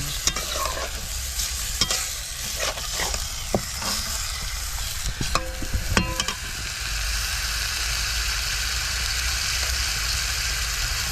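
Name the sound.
stirring frying curry in pan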